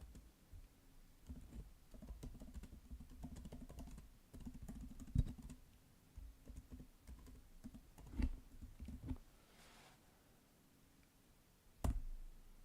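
A call sign typed on a computer keyboard during a radio messaging session, quiet close clicking keystrokes in irregular runs with pauses, a few sharper taps standing out, no speech.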